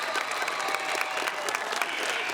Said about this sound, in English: let's give a round of applause to class of 2024